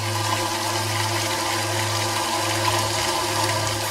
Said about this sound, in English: My homegrown hydropower.